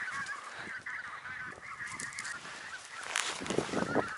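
Several geese honk repeatedly during a spring goose hunt, a dense overlapping chorus of nasal calls that grows louder and closer toward the end.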